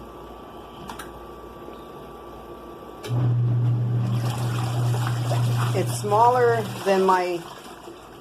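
A twin tub portable washing machine running on its soft cycle starts up with a steady low motor hum and sloshing water under a constant background noise, while a person talks over it.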